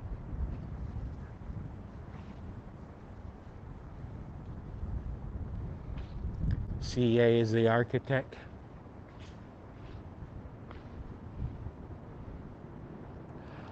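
Gusty wind buffets the microphone in low rumbling bursts while a person speaks outdoors in Los Angeles, with a brief tonal mechanical hum rising in the middle.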